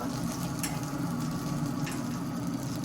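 Steady crackling sizzle of prime rib cooking on a pellet smoker, a constant dense hiss with faint pops, close and continuous with no talking.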